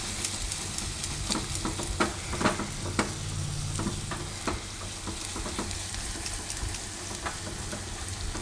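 Garlic and green chili frying in hot oil for a Gujarati bitter gourd chutney tempering, a steady close crackling sizzle with scattered pops and stirring scrapes throughout, no voices.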